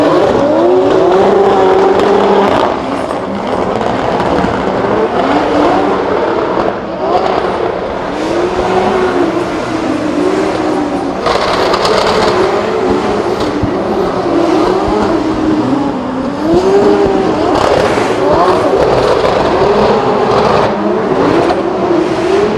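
Drift cars on track during Drift Masters practice in Germany, with engines revving hard and rising and falling in continuous loud waves alongside tire squeal, dense and close with no pause.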